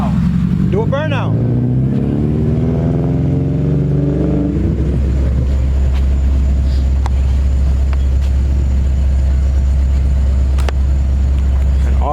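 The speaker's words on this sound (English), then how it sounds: "Do a burnout." Modified car revving hard in a burnout, engine rising and falling loudly and close, then settling into a steady heavy drone with a loud electric Spal cooling fan nearby.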